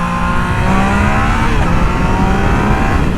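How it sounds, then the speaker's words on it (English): A 2020 Yamaha MT-09 with its inline three-cylinder engine and no exhaust revs loudly and up close, its steady rising whine and throaty drone continuing without a break. "See, that triple, that inline 3 sounds really good."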